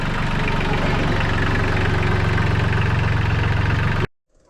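A small diesel engine of a Solis 26 mini tractor runs steadily at idle with a low, knocking chug, loud and close, then cuts off abruptly near the end.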